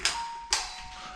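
A hotel reception doorbell sounds after its button is pressed: two electronic chime tones, each with a bright attack and a sustained ringing tail, close and fairly clear, with no talk.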